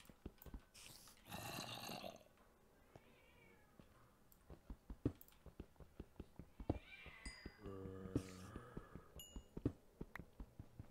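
Cat meows from Minecraft rise repeatedly over a busy bed of game clicks and taps, with one longer, louder yowl near the end and a few fainter calls between.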